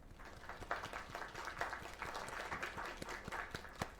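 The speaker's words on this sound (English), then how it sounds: "Another round of applause." A crowd applauds steadily, with individual claps popping out over a continuous wash of clapping throughout.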